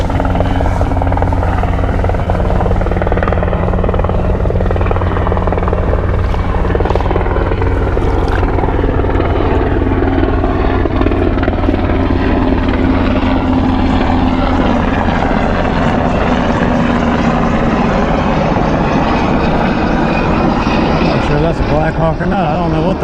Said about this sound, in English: A little black hawk flying over.